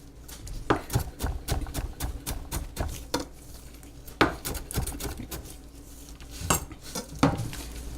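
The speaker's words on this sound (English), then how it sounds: "a clove of garlic. Make sure it's peeled. You can slice it, chop it." A knife chops through a peeled garlic clove on a board for tomatillo salsa verde, with irregular sharp taps and clinks, close and moderately loud, and no voice.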